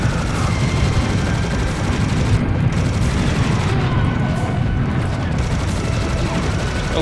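A minigun in Serious Sam HD: The Second Encounter roars in a dense, continuous barrage, loud and unbroken for several seconds amid a thick wash of game noise.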